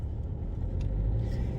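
A car's interior road noise while driving, a low, steady engine and tyre rumble that swells slightly toward the end, heard from inside the cabin with no one speaking.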